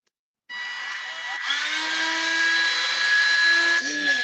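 A power grinder works a metal part close up, a steady high-pitched whine with a shift in tone and load partway through, then a brief drop and pickup near the end.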